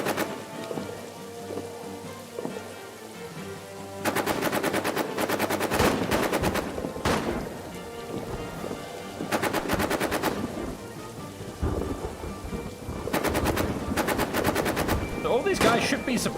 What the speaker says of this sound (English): So all these guys should be suppressed by my machine gun fire.